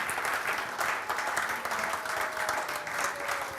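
A church congregation claps and cheers in praise during a morning service, dense continuous applause filling the room throughout at steady loudness, with faint voices mixed in.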